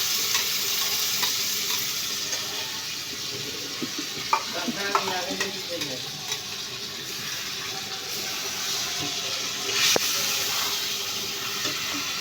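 Ginger, garlic and chili paste hitting hot oil with cumin and turmeric powder for a Bengali mutton curry, giving a steady sizzle with scraping and clinking from stirring in the middle and a sharp clack near the end.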